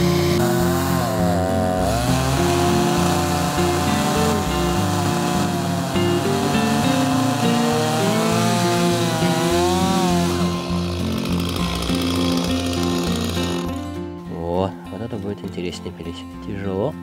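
Chainsaw ripping lengthwise through a pine log outdoors, a loud close snarling engine with wavering pitch as the cut loads and eases, running continuously for about fourteen seconds before dropping to a lower idle.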